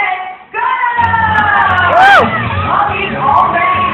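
Children and adults cheer and yell on contestants at a Double Dare style family game as a round starts, a loud crowd of shouts and whoops building after a brief lull, with a sharp rising whoop near the middle.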